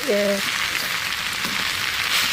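Spinach greens sauté in hot oil in a pan, giving a steady, dense, close sizzle that holds at an even level throughout, with a brief voice sound at the very start.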